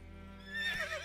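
Roach, the horse in The Witcher 3, gives a short, clear whinny that rises near the end of a brief clip over a low steady hum.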